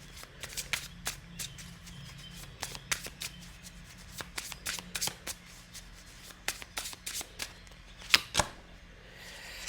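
Oracle cards being shuffled by hand, a steady run of quick papery flicks and riffles close up and fairly quiet, with a couple of sharper taps near the end and no talking.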